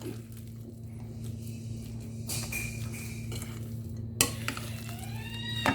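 Tuna fish kebab mixture being mixed by hand in a bowl, giving a soft, continuous squishing and stirring texture with a few light clinks of utensils.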